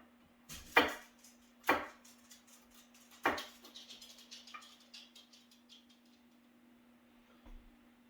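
A knife cuts carrots on a cutting board with three sharp, well-spaced chops close by, then a quicker run of lighter taps that fades off, over a low steady hum.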